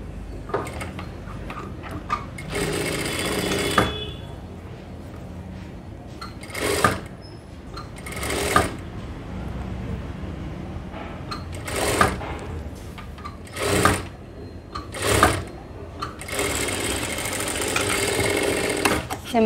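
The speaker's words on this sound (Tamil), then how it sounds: "டபுள் ஸ்டிச் போட்டு இன்னொரு ஸ்லீவும் அட்டாச் பண்ணி, ரெண்டு ஸ்லீவும் அட்டாச் பண்ணியாச்சு." A sewing machine double-stitches a sleeve onto a high-neck blouse, running in several bursts of rapid, even mechanical whirring with pauses between, up close, while someone talks over the quieter gaps.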